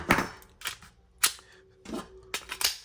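Dry-fire trigger pulls on an MC9 9mm pistol, heard as a series of crisp, close mechanical clicks and snaps with short pauses between them, quiet and with no speech.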